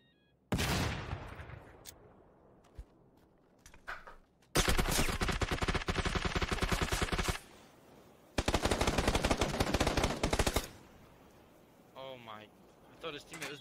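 In PUBG on the Karakin map, a loud single blast comes first, then two long bursts of rapid automatic gunfire several seconds apart, with players talking in between.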